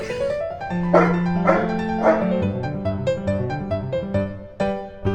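Several dogs at home bark and yip loudly in quick, uneven bursts, with whimpers mixed in, all close by and continuing throughout with no talking.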